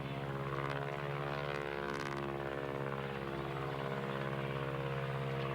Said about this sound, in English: a World War I biplane goes overhead